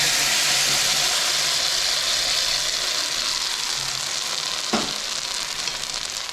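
Jackfruit paste frying in ghee for homemade halwa, a steady close hiss and sizzle that runs continuously, with a brief scraping knock of stirring near the end and no talk.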